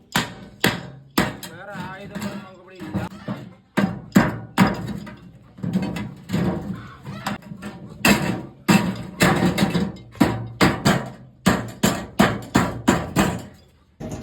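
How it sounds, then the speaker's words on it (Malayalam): Metal oil tin being hacked open with a billhook, a long run of sharp, loud chopping strikes in uneven bursts, close by, with some speech mixed in. "ഈ കൊടുവാള് വെച്ചിട്ട് തന്നെ നമുക്ക് വെട്ടിയെടുക്കാൻ പറ്റും"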